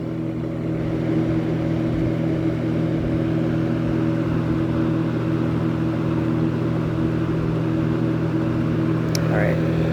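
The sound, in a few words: GWS General-Aire 20-inch box fan running on high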